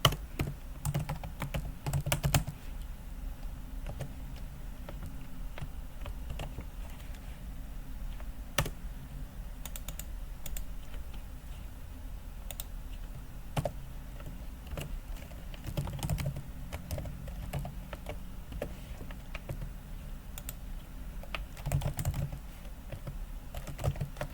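Typing on a computer keyboard while entering data in an Excel spreadsheet: continuous close key clicks in irregular bursts with occasional heavier keystrokes, steady throughout, with no voices.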